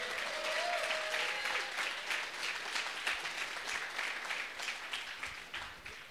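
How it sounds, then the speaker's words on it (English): Audience applause for a hackathon team at a conference closing address, a dense, quiet burst of clapping that thins and fades toward the end. "So give them a round of applause."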